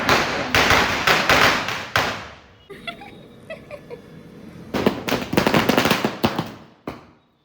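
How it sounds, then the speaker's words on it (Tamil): A loud string of Diwali firecrackers crackles in rapid bursts, pauses to scattered pops, then erupts again in another dense rattling volley before fading. "அவங்க அப்பா சர வெடிச்சிட்டு இருக்கான்"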